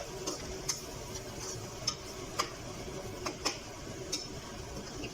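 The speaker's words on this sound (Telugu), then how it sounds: "కొంచెం ఆయిల్లో అది వేసుకొని కలుపుకోవాలి" Fried drumstick pieces are stirred in hot oil in a pan, a spoon knocking and scraping against the metal in light, irregular taps over a soft, steady sizzle.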